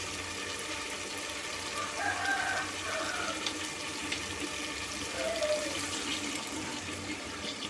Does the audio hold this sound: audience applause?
no